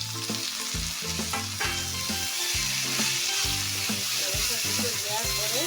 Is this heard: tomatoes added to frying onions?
yes